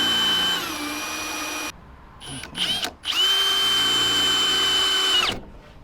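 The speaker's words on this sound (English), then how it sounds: "Grab yourself a cordless drill and a 3mm pilot hole." A cordless drill whines at high speed drilling a 3mm pilot hole in a Jeep Wrangler JK rear door, stops, stutters in a few short bursts, then runs steadily again before winding down.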